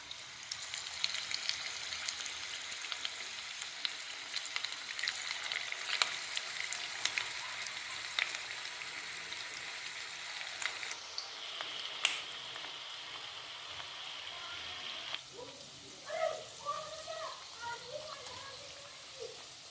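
Chicken pieces for restaurant-style dry chilli chicken frying in hot oil, a steady crackling sizzle throughout with brief louder spatters near the end, fairly close.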